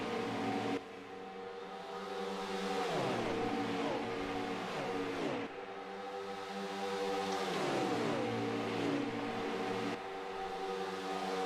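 Stock cars racing in NASCAR Heat 5 on an oval: engines rise and fall in repeated shifting revs, with a clear cycle of acceleration and gear changes at roughly four-second intervals, loud and continuous with no talk.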